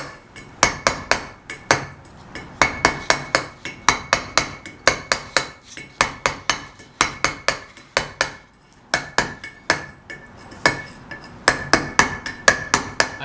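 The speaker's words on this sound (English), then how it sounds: "Why can't you just flat chisel over the punch surface?" A steel flat chisel is struck with a hammer over a punched stone surface, making a long series of sharp, ringing taps in a fairly regular rhythm, close and clear with no talking.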